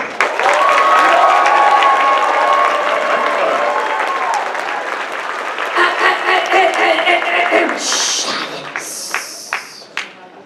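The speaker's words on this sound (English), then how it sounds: "giving one final round of applause" An audience at a closing ceremony applauds loudly and steadily, the clapping thinning out toward the end as a few scattered claps and taps remain.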